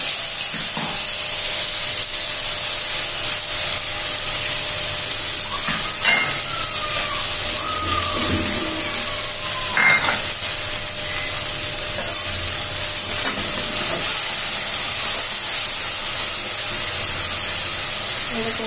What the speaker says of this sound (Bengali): পোস্তটা ভাজতে গেলে না তেলটা এরকম গরম করতে হবে। এই পোস্তটা আমি ঢেলে দিচ্ছি।